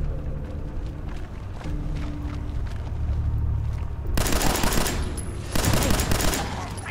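Gunfire in Fallout 4: loud bursts of rapid shots erupt in two bouts over a busy low rumble of game ambience, with faint movement sounds beforehand.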